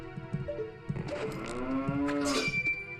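A cow moos in the Zelda Master Quest video game at Jabu-Jabu's Belly, a single drawn-out, rising and wavering bovine call heard up close over faint game sounds.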